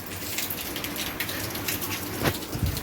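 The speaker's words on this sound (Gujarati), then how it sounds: "ઘણા દિવસ પછી જો વરસાદ ચાલુ થઈ ગયો છે" Steady rain falls in a village setting, making a continuous dense patter throughout with a brief brighter splash near the end.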